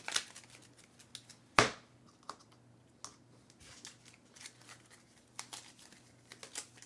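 Cards from a superhero cooperative board game being shuffled at a table, with soft riffling and crisp snaps of the deck, one sharp burst standing out among quieter papery flicks.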